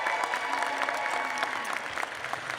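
Audience at a university convocation ceremony applauds steadily for a graduating-class award honoree, a dense, even wash of many hands clapping that holds at a consistent level throughout.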